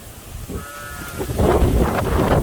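Lambs bleating, a couple of wavering calls close by, with cold wind buffeting and rumbling loudly in the background.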